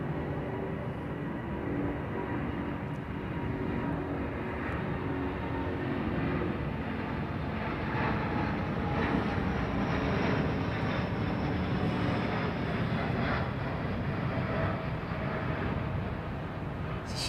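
A heavy airliner on its takeoff roll at Heathrow, a steady broadband roar of jet engines holding loud and continuous throughout, with no talk over it.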